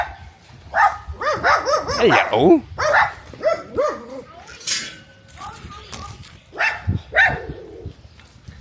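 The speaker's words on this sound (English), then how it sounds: "when the dogs bark, it looks like this owner does something about it" Dogs bark in short bursts amid chattering birds in rural Vietnam, with a person briefly calling out a greeting over the mix.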